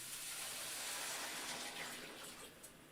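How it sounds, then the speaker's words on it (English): Water poured into a soup pot during chicken soup preparation, a steady broadband splashing rush that holds for a few seconds at moderate level and eases slightly toward the end, with no talking. "I'm putting my water in."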